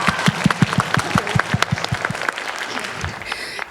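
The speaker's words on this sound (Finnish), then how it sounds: "Antakaa niille aplodit." Applause from the audience at a live stage performance at an anime convention, with a few loud distinct claps ringing out in rhythm over a softer crowd patter that fades toward the end.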